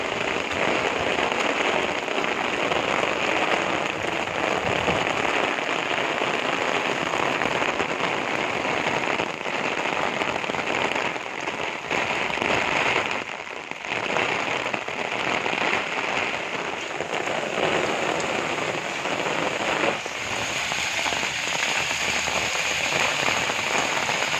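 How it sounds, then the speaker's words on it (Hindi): A sudden heavy rain shower pours down steadily, a dense continuous hiss of drops drumming on surfaces that holds loud and unbroken throughout with no voices. "अचानक से बारिश होना स्टार्ट हो गई"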